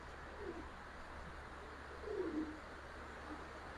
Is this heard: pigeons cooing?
yes